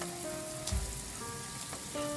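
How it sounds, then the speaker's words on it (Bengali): Onions, green chillies and turmeric powder fry in a pan, giving a soft, steady sizzle that is quiet and continuous for a couple of seconds with no voices. "দিয়ে এটাকে আবারও ভালো করে ভেজে নেব।"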